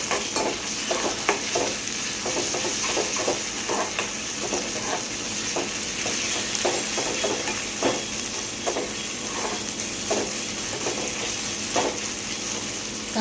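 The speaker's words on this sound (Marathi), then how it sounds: "आता थोडासा परतला की त्यात टाकले मी आले लसूण पेस्ट" Chopped onion sautés with ginger garlic paste in a pan for a quick moong bhaji, a continuous close sizzle broken by frequent scraping, tapping stirs of a spoon against the pan.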